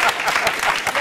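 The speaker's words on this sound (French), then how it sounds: "D'accord, on va applaudir pour Kulinama" A small group claps together in a brief, steady burst of applause.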